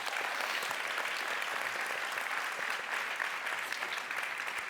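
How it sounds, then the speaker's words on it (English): An audience at the ArabCon 2025 conference gives a speaker a round of applause, a dense, even wash of clapping that holds steady at a moderate level for the whole stretch. "Can we give a round of applause to the gentleman here?"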